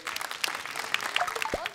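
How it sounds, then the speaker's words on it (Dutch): Applause for a jury at a Dutch event, with dense clapping from a crowd mixed with scattered voices and a few whistles or shouts over nearly two seconds. "Applaus voor de jury."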